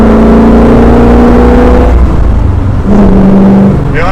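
Chevrolet Corvette C2 engine pulling hard through the gears on small country roads, loud and close with steady rising tones, a brief shift gap, then another climb.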